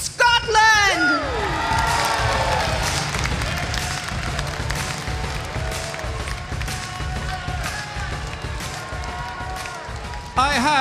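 Large audience at the Miss Earth 2015 coronation night roaring, cheering and clapping in a big hall, a sustained wash of crowd noise with a host's voice briefly heard at the start and end.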